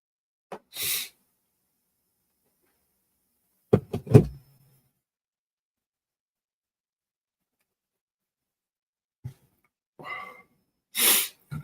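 Several separate sneezes and sharp breathy bursts in a quiet room, spaced apart with silence between them, the loudest ones near the start and at the end.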